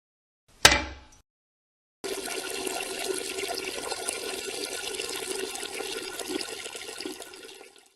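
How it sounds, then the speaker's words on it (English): A toilet-and-urination sound effect, a sharp watery splash that quickly fades, then a pause and a steady hissing stream of running liquid that tapers off near the end, with no talking. "That sound effect sounds like a male urinating in reverse."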